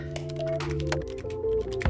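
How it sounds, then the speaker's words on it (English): Fingers tap briskly across a computer keyboard in quick, uneven clicks, close and fairly quiet over a sustained soft musical tone in the background. "Like my fingers dancing across a keyboard."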